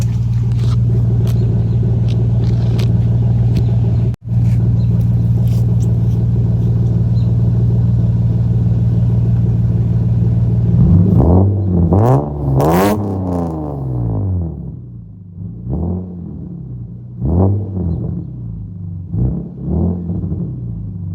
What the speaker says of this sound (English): So set the camera down and try to get some throttle blips going